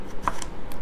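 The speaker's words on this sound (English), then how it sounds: "And then I line them up and chop them" Vegetable strips lined up on a board and chopped with a knife, a few quick close knife taps in a short burst.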